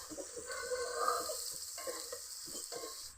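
Vegetables for vegetable fried rice stir-fried together in a hot pan, giving a steady close sizzle broken by repeated scraping stirs.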